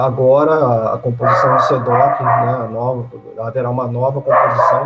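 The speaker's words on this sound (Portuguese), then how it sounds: "Desculpem o cachorro aí, gente, tá chegando gente aqui em casa" A dog at home, stirred up by people arriving, barks in short excited bursts behind a person speaking steadily in Portuguese.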